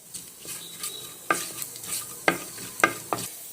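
Fennel seeds and a bay leaf sizzling in hot oil for a crab soup, a soft steady frying hiss broken by several sharp metallic scrapes of a spoon stirring the pan, close and fairly quiet.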